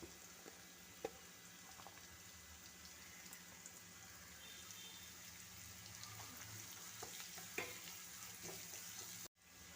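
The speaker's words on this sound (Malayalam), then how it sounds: "ചെറുതായിട്ട് ബ്രൗൺ നിറമായി തുടങ്ങുമ്പോഴേക്ക് നമുക്ക് ക്യാരറ്റ് ഇട്ട് കൊടുക്കാം." Onion and carrot sautéing in a pan make a soft, steady sizzle with faint stirring scrapes. The sound is low and continuous, and no one talks over it.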